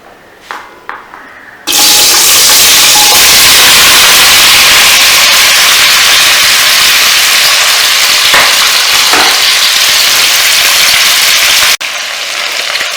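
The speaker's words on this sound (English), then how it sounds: "I'm going to add all of this into the hot oil." Undhiyu vegetables drop into smoking-hot oil and burst into a loud, steady sizzle that holds for about ten seconds before easing slightly, after a few quiet clinks.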